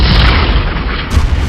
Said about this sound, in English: Pay no attention to the peaceful explosions all around me